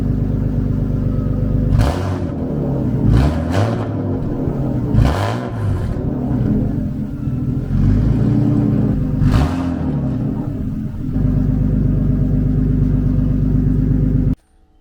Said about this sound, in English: I'll give her a few revs for you guys.